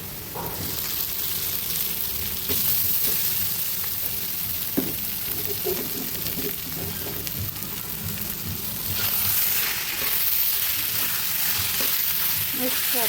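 Poha frying in a pan for kanda pohe, a continuous close sizzle with stirring scrapes and occasional clinks that swells louder near the end, with no talk.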